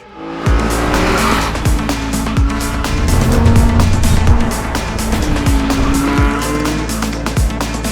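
BMW 116 Trophy race cars lapping a circuit in qualifying, loud engines revving and shifting up close with repeated downshift drops and tire squeal, continuous and dense.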